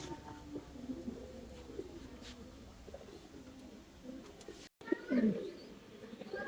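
Pigeons of a Danish breed with Pakistani bloodline coo softly in low, rolling calls over a murmur of background noise, with a louder, closer coo near the end.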